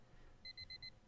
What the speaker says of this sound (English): I switched off the alarm clock and went back to sleep again